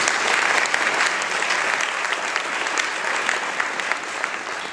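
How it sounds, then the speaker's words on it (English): Sustained audience applause at an education luncheon honoring a museum workers collective: a dense, even roar of many clapping hands filling the room, steady from start to finish. "Let's clap it up for them."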